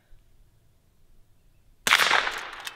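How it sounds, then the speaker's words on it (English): A single suppressed shot from a Henry Frontier rifle breaks a quiet range: a sudden sharp bullet crack followed by a short, fading rush of noise, heard alone and fairly close. "Yeah, you can hear that crack of that bullet."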